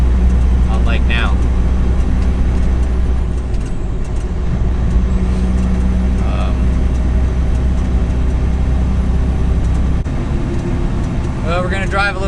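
Steady low engine drone and road rumble of a semi truck cruising, constant and loud throughout, with faint talk and brief higher tones near the start and end.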